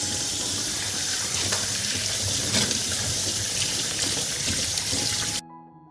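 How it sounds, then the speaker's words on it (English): Tap water runs steadily and loudly over a watermelon being washed in a sink, a broad close rush for over five seconds before the flow cuts off. "I'll wash the watermelon first."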